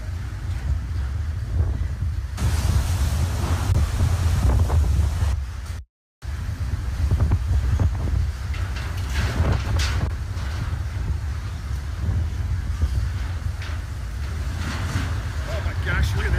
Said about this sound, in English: the wind's starting to pick up out of the north